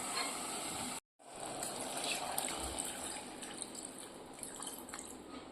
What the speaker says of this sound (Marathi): आपण आता यात वरून पाणी ॲड करूया.